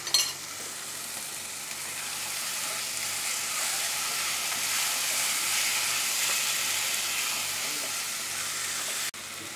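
Mutton liver frying in a pan gives a steady, dense sizzle with soft hiss, holding even and close throughout before cutting off abruptly near the end.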